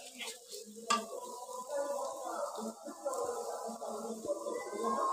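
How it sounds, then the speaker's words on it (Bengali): Jackfruit seeds frying with turmeric, salt and chili, a soft sizzle under scraping stirs and a clink of metal against the pan, close and fairly quiet. "প্রথমে হলুদ লবণ মরিচ দিয়ে কাঁঠালের বীজগুলো ভেজে নেবেন"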